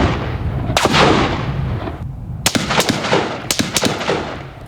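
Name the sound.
AR-10 and AR-15 rifle shots in desert valley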